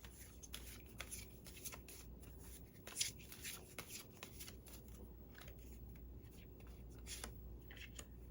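Tarot cards being shuffled by hand, a faint, steady run of soft riffling and rubbing with small irregular flicks, close and quiet with no talking.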